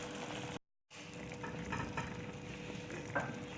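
Prawns are stirred into pulao masala in a pan, giving a soft, steady sizzle with scraping spoon strokes. The sound cuts out briefly near the start, then continues faintly with no voices.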